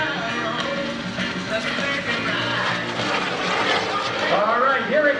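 A mini jet aircraft performs at the Greenwood Lake airshow, its loud, steady engine roar sweeping by with shifting pitch while a commentator's amplified voice talks over it throughout.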